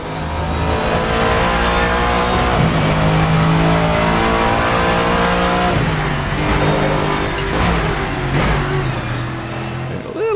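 Lexus GT3 race car engine in Assetto Corsa, loud and close, holding a steady high drone with upshifts and revs rising and dropping through corners throughout.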